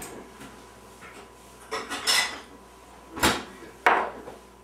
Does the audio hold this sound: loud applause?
no